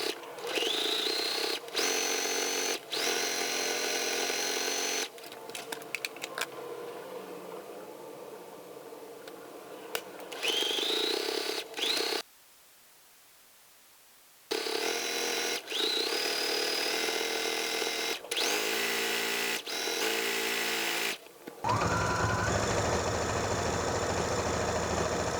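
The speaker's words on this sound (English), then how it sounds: "we will take these 3 pieces to the sewing machine." A sewing machine stitches through three layered fabrics for a quilted paddle cover, running in loud, close bursts with short pauses and a longer silent stop midway before it whirs on again.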